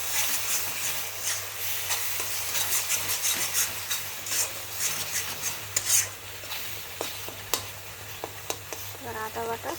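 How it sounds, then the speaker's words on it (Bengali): Garlic paste fries in a pan while a spoon stirs it gently, a steady soft sizzle under repeated scraping and light clinks of utensil against metal, close and continuous. "রসুন বাটাটা দিয়ে হালকা নাড়া দেবো"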